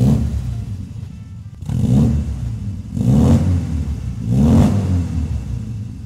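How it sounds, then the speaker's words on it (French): A 1967 Austin Cooper Mk1 revving through its dual central exhaust, three strong throaty blips rising and falling close by, each swelling into a loud rumble before easing back. "Celle-ci est dotée donc d'une ligne d'échappement qui lui procure un très bon son."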